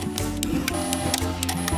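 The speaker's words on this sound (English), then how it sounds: "Let's meet the X-Maker Joy 3D printer." An X-Maker Joy toy 3D printer hums with tonal stepper-motor whines, broken by quick, regular ticks and clicks as the print head moves. The sound is close and continuous, with no voices.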